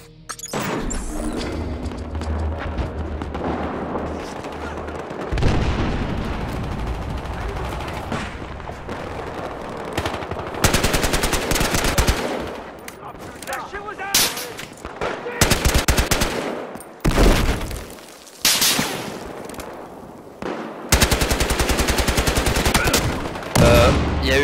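Automatic gunfire from an SA-58 OSW rifle in Battlefield Hardline, loud close bursts and rapid strings of shots broken by short pauses, with game ambience and occasional voice underneath.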